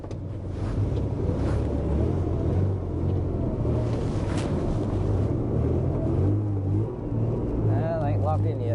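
Farm truck with locked hubs spinning its wheels in second gear, a loud continuous engine roar and churning rumble at close range, with someone talking over it.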